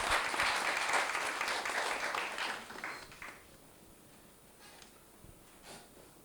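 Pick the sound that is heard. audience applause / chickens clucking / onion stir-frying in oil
audience applause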